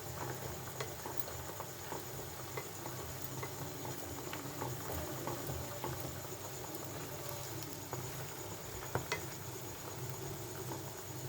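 Oil boils with onions, flowers, betel and hibiscus leaves, giving a faint, steady bubbling patter with small scattered pops throughout.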